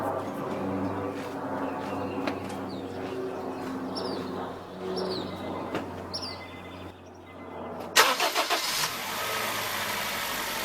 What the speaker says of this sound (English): now I'll go ahead and start the car and see if we can get the compressor to kick on.